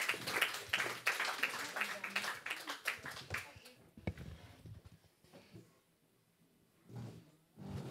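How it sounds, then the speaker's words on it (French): Audience applause at a formal agreement signing ceremony, dense clapping for about four seconds, then thinning into scattered claps and murmurs as people stand for a group photo. "on applaudit"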